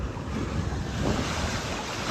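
Ocean waves and surf wash steadily and close at hand, mixed with blustery wind buffeting the microphone, out on open water with a boat-like rumble underneath.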